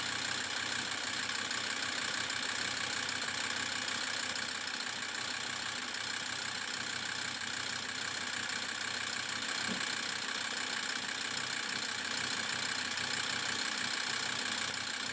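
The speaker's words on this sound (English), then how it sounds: "Let's start the engine up now." A car engine idles steadily during an oil cooler replacement while flushing fluid is run through it, making an even, continuous close drone with a mid-pitched hum that runs unbroken throughout and has no talk over it.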